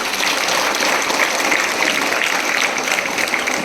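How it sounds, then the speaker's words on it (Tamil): A crowd applauds at an Independence Day speech event, dense continuous clapping that stays loud and steady throughout, with no pauses. "அவருக்கு மீண்டும் ஒரு கைத்தட்டலை பரிசாக்குமாறு கேட்டுக்கொள்கிறேன்"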